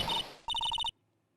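A phone rings in the video game Phoenix Wright: Justice for All as a short electronic chirp, then a quick burst of rapid identical beeps that cuts off into silence.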